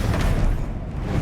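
A Confringo fire spell explodes in Hogwarts Legacy, a dense, loud low-end boom that rumbles steadily through the whole short moment with no break or quieter tail.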